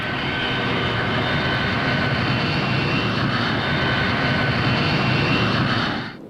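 A Saab 37 Viggen single-engined jet aircraft roars loud and steady for several seconds before the sound drops off abruptly at the end; no voices.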